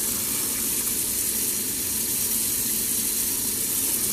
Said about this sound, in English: fill it up with water again, and this time I'm going to apply detergent to the water.